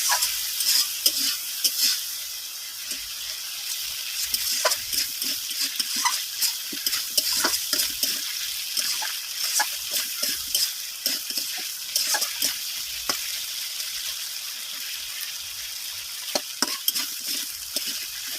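Shrimp and vegetable stalks sizzle in a pan as a spatula stirs them in frequent scraping strokes over a constant frying hiss, close and fairly loud, with no talking.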